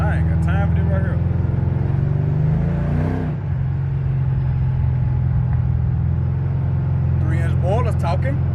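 Deep, steady exhaust rumble from a car running 3-inch boilers with the cutouts removed, loud and close inside the cabin, swelling briefly as it accelerates, with someone talking over the drone throughout.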